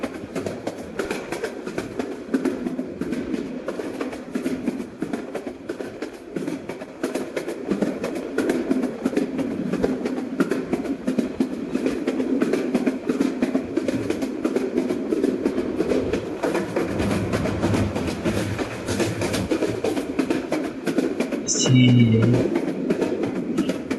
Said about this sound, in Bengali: 32 কিলোমিটার পার আওয়ারে আমাদের ট্রেন চলছে